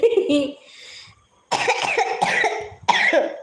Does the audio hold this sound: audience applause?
no